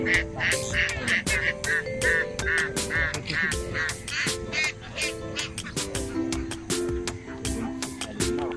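A flock of ducks raised for fried duck and salted eggs quacks steadily and loudly on a rural morning walk in Plaridel, Bulacan, the calls overlapping in quick bursts.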